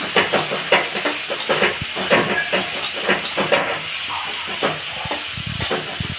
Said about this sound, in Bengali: ফুলকপিগুলো লাল লাল করে তাতে গ্রেট করা বীজগুলো দিয়ে দিলাম এটা হালকা করে নেড়ে নিয়ে